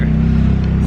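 A loud right-hand-drive Toyota Mark II engine idling up close, a heavy, throbbing low rumble with a steady pulsing beat and no talk over it.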